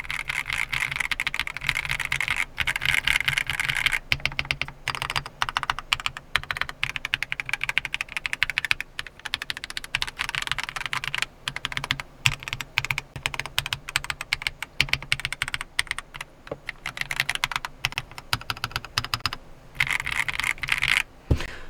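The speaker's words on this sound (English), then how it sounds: "Typically you have some kind of mouse pad that your keyboard is laying on," Rapid, steady typing on a Keychron V6 Ultra 8K keyboard resting on a felt pad, dense close clicks and clacks running continuously with no talk.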